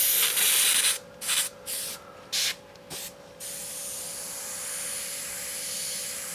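An airbrush sprays black paint in a few short hissing bursts, then settles into a steady, softer continuous hiss, close by.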